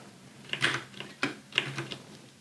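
A few sharp keyboard key presses in a short burst while writing CSS code, close and clear with no talking.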